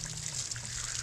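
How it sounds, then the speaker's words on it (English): Water leaking a little from a repaired spot during a test of a leak-sealing product, a close, continuous trickling and splashing that stays steady throughout about a second, with no talking. "I guess it's still leaking a little bit"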